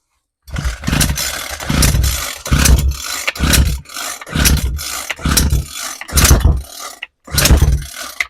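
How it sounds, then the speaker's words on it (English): A Homelite string trimmer engine sputters while being started, a series of about eight loud, rough bursts, each putt of firing cutting out between pulls. "It's starting to give it a couple putts"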